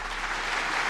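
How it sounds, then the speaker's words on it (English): Applause from an audience at a Donald Trump rally, a steady wash of clapping that stays even and moderately loud throughout the short moment. "but you still get a round of applause"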